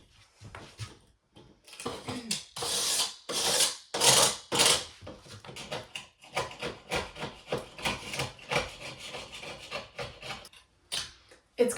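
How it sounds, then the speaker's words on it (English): Flaky paint is picked and scraped off wood by hand. It makes a close series of irregular, dry scratching and rasping bursts, some louder than others, with short pauses between them. "I don't know if anyone else has that urge when you see flaky paint to just pick it off."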